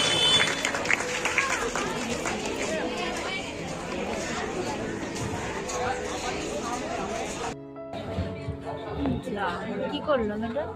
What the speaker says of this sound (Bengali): আপনারা তাদেরকে উৎসাহিত করুন করতালি দিয়ে।